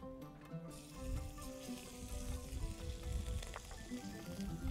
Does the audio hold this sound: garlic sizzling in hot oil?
yes